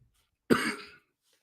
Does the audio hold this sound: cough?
yes